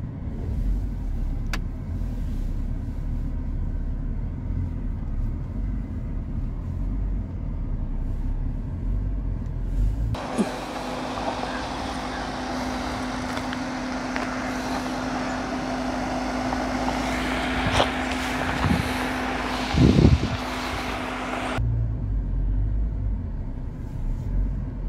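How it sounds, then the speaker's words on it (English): Mahindra Scorpio N diesel SUV climbing an off-road uphill in four-wheel drive high, with a steady engine rumble that swells louder midway, punctuated by a couple of brief knocks before settling back to a low drone. "We need four-wheel drive high for this uphill condition."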